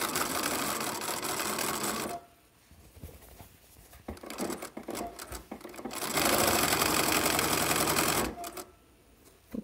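A sewing machine stitches a pillowcase in two loud bursts of steady, rapid running, with quieter pauses between where the fabric is handled and backstitched.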